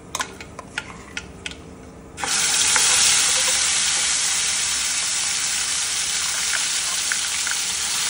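For dhaba-style palak paneer, a spice paste with mustard seeds and bay leaf hits hot oil in a pan with a sudden loud, steady sizzle after a few light clicks and taps, continuing close by without talk.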